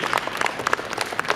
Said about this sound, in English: Let's give a round of applause to those reflections.